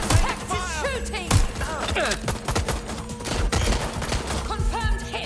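Rapid gunfire bursts and scattered shots in the video game Watch Dogs: Legion, loud and close, mixed with crashing impacts and frantic game voices calling out over the shooting.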